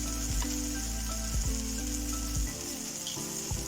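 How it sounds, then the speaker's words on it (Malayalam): Turmeric, coriander, chili powder and garam masala sizzle in hot oil in a pan, a steady close frying hiss broken by soft scraping stirs, with no talk. "എല്ലാം കൂടിയിട്ട് ഒന്ന് അങ്ങോട്ട് ഫ്രൈ ചെയ്തെടുക്കാം"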